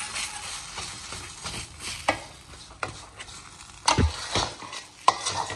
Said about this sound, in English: And we will stir